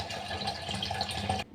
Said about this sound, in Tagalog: Lagyan lang ng tubig.